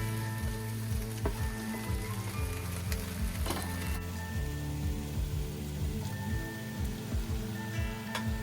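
Flour-coated beef chunks browning in a pot for beef stew give a steady, close sizzle and crackle that runs unbroken for the whole stretch, with no talking over it.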